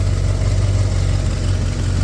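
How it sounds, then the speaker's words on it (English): An idling XA Fairmont GS engine with an exhaust leak gives a steady, loud, low rumbling drone with constant hiss and no change in revs, and no one talks over it. "All I can hear is an exhaust leak"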